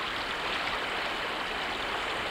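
Steady, loud wash of rushing water at a beaver dam in a Rocky Mountain beaver pond, a continuous broadband hiss with no pauses or voices.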